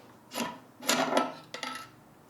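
Three short bursts of metallic scraping and clinking as a metal link of a survival cane is unscrewed, close and moderately loud with brief pauses between turns.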